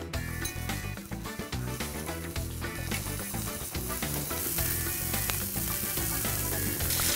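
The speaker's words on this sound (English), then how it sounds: "You want to take this guy, give it a quick sear." Thin slices of A5 Japanese Wagyu ribeye searing in a hot pan, a loud, dense, continuous sizzle close by with crackling spatter and no talking.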